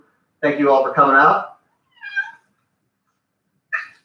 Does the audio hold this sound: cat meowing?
yes